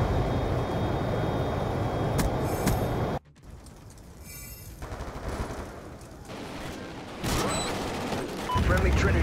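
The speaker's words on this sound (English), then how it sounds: "Hellstorm missile inbound." A Hellstorm missile strike in a Call of Duty game brings a dense roar of rapid gunfire and blasts, a sudden cut to a quieter rumbling stretch, then the heavy barrage swells back in loud and close.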